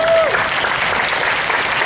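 Parents and guests at an eighth-grade promotion ceremony clap in a brisk, full burst, with a brief voice audible at the very start before the clapping carries on evenly.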